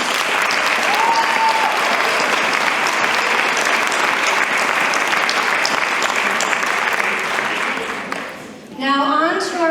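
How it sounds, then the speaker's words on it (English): Graduation audience at a high school aerospace and engineering academy ceremony applauding faculty and staff, loud sustained clapping and cheers that fade near the end as a speaker begins talking. "Can we give faculty and staff a round of applause?"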